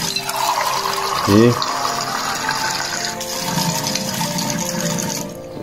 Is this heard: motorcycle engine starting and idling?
no